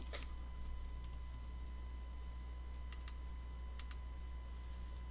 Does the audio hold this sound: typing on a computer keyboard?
yes